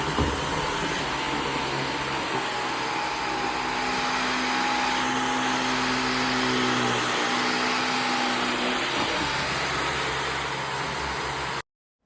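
Steady high-pitched whirr of a Dyson V15 Detect cordless stick vacuum running continuously, close and fairly loud, with a brief shift in pitch partway through.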